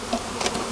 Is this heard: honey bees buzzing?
yes